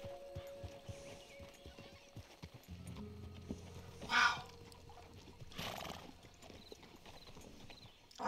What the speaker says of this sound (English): Easy, girl. Slow up now.